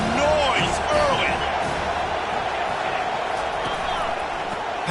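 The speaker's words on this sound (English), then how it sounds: "This crowd bringing the energy and noise early." Broadband roar of a college football stadium crowd, steady and loud throughout, with whistle-like tones and a commentator's voice over it.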